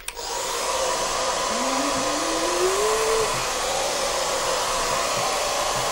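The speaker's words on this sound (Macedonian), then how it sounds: "Ај исклучи го фенот." A hair dryer runs steadily indoors, a loud, even whooshing hum with a faint whine that holds for the whole stretch after switching on.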